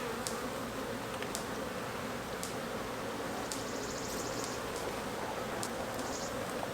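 Honeybees buzz steadily inside an upgraded ten-frame hive box packed with nectar, a dense continuous hum close by with a few sharp clicks and knocks over it, and no talking.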